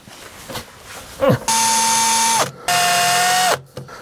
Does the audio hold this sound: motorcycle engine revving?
no